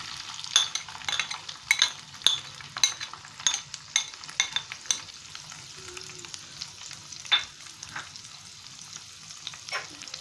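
Boiled potato frying in a pan for potol dorma, with a soft sizzle under repeated metallic clinks and scrapes of a spoon stirring, close and steady.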